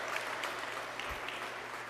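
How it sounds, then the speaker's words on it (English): An audience at a government clean energy announcement gives a brief round of applause, a soft continuous patter of clapping at moderate distance. "Please give Steve a nice warm round of applause."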